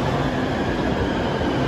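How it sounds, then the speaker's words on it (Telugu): A metro train pulls into a station at speed, a loud steady rumble and rush of rolling wheels filling the platform without a break. "మన ట్రైన్ అయితే వచ్చేసింది"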